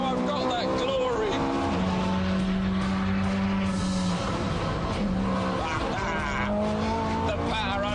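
A Ferrari accelerates hard on the Fiorano track in power oversteer, its engine note rising and falling with tire squeal and skidding throughout, loud and close, while someone talks over it.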